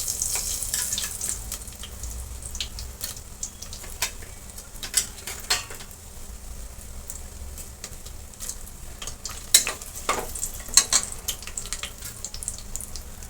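Whole spices such as star anise, cinnamon and bay leaf sizzle steadily in hot oil for a Kolhapuri-style mutton curry, a continuous crackling fry with a few sharper pops, no talking.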